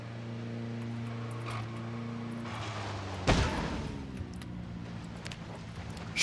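A car engine in the zombie survival game Project Zomboid hums steadily, then a sudden loud thump like a crash breaks in, followed by a rougher drone.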